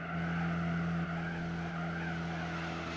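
Car engine drone with tire squeal in the racing video game Gran Turismo 4, a steady sustained hum with skidding noise, alone and without talk.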